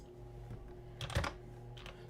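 Quick clicks of typing on a computer keyboard, faint and close, in a few short bursts with a louder cluster in the middle.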